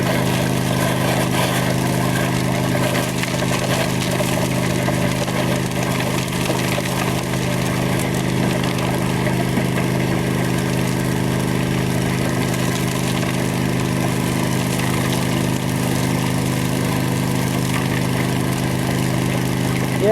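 A gold mining dredge engine on the Salmon River in California runs at a steady idle, a loud continuous drone with a low rumble and no break across the whole stretch, with no talk over it.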